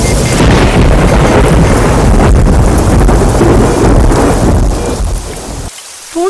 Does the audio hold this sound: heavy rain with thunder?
yes